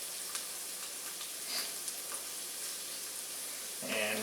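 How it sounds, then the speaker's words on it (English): Asparagus sizzling steadily in a pan over medium heat, a soft continuous hiss and crackle close by, with a slight clatter near the end. "we're gonna really try and get some of the liquid out of the asparagus"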